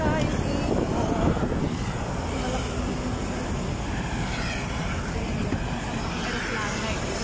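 An airplane's engines make a steady, loud, broadband roar that runs without a break, with people talking over it.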